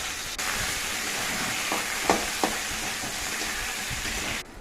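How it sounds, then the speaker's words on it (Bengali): Potatoes fry in hot oil in a pan for a vegetable dish, giving a steady broadband sizzle throughout with a few brief spatters or stirring scrapes near the middle, close and fairly loud, with no talk. "আলুটা বেশ একটু ভালো করে ভাজা করে ভেজে নিতে হবে।"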